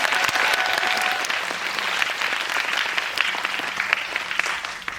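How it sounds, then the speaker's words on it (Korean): Sustained applause from an audience at a special screening Q&A for the film Guardian, dense steady clapping at a constant level throughout with no talk. "이때 박수를 한번 주세요"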